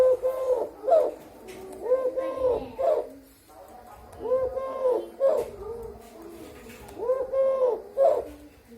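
A tame Eurasian collared dove coos up close at night, repeating its three-note call in regular phrases about every two to three seconds, with faint background noise between.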